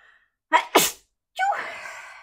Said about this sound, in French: J'ai le nez qui me chatouille, je vais éternuer.